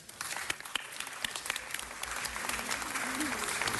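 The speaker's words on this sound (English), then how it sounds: "Let's give all of them a big round of applause." Applause for students at a city council meeting, steady clapping from the room with a few sharp close claps standing out, and faint voices underneath as it continues.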